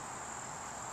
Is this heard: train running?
no